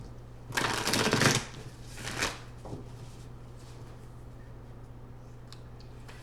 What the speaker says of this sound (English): let me pull a moonology card